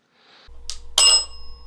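A bell struck once during a haunted-house investigation, giving a single clear, ringing metallic strike with a tone that lingers, following a quieter click, with no talk over it.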